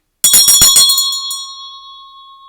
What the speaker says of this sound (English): I'm going to go ahead and ring my bell